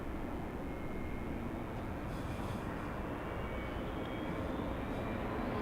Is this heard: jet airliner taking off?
yes